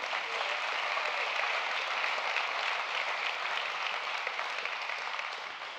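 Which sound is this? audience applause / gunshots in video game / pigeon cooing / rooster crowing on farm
audience applause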